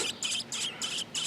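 Young birds in a nest chirping close by, five quick evenly spaced bursts of high thin cheeps in a steady rhythm.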